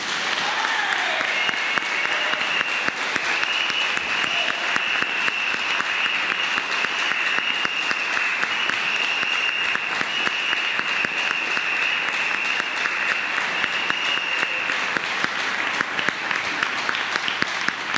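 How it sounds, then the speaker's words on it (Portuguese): A church congregation claps for the Lord in a long, loud, dense round of applause that holds steady from start to finish, with no voices standing out. "uma forte salva de palmas para o Senhor"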